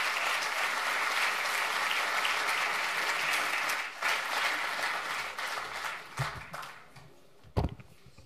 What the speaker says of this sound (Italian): Un applauso al professor Marco Eugenio di Gian Domenico.